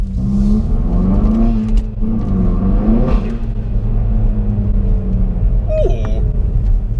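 A 320 bhp Hyundai i30N engine rumbling and revving inside the cabin, pitch rising and falling with quick downshift throttle blips, a short squeak near the end.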